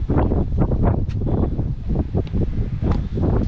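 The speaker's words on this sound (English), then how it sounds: "So it's a little windy out." Gusty wind buffeting close to the microphone, a loud low rumble that surges and dips unevenly throughout.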